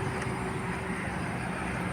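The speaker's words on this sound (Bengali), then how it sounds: "এই যে ট্রেন যাচ্ছে, কয়লার ট্রেন" A coal train passes close by, producing a continuous heavy rumble and rolling roar that holds steady without pause.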